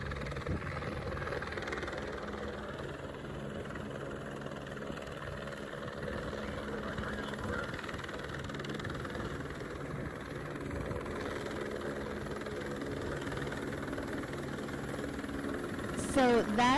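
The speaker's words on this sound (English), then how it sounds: "So that is a Department of Homeland Security helicopter being used as a weapon of war against frontline resistors." A Department of Homeland Security helicopter flies over a pipeline resistance camp in Minnesota, its engine a steady distant drone and rotor hum that fills the whole stretch under faint background activity.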